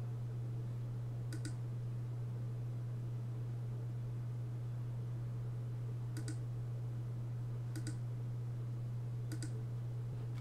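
A computer mouse clicks through a Windows software installer: four or five crisp, isolated clicks spaced irregularly over a constant low electrical hum, with no talking.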